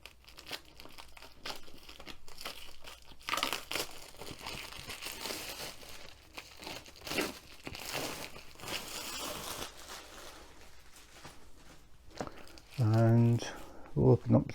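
A cellophane seal is crinkled and torn off a Diamond Art Club diamond painting kit box, producing close, crackling plastic rustles in bursts, with a louder crumple near the end. A voice speaks at times over the crinkling.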